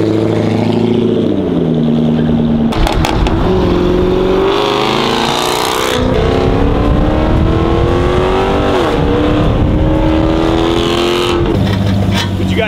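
A Range Rover SVR fitted with a Velocity AP downpipe and tune roars loudly and close while driving, its engine revving up and down through the gears with crackles between shifts.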